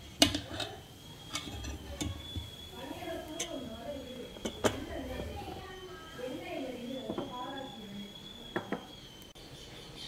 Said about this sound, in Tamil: இப்போ ஏலக்காயும் ஏலக்காய் தூளும் தேங்காயும் போட்டு கலக்கிக்கிறோம்.